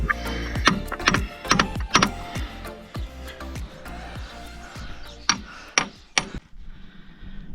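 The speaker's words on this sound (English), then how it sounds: "they have managed to get the slightly longer chisel through the pads there and just give it a slap" Steel chisel driven with hammer blows to knock pads off the slew bearing of a JCB JS130 excavator, a series of sharp metallic strikes in uneven bursts, loud and close, with several heavy whacks near the end.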